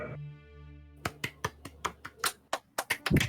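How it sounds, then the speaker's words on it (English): A tone fades out, then a series of sharp claps rings out close by, about a dozen in an uneven rhythm. "I'm clapping"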